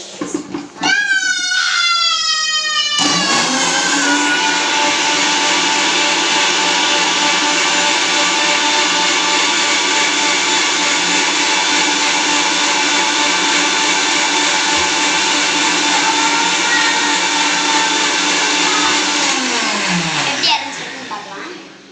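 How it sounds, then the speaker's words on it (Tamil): A blender grinds a sugar mixture, starting with a few short pulses and then running as one loud, steady, high-pitched whir for about seventeen seconds before cutting off. "இப்போ நம்ம அரைக்க ஆரம்பிச்சிக்கலாம்."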